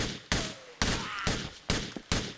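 Gunfire in Grand Theft Auto IV: five sharp, loud shots spaced irregularly about half a second apart, each with a short decaying tail.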